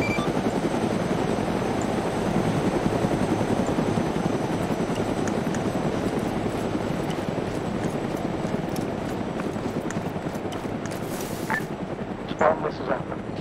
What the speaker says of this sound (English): Guys, get those helos out of here quickly.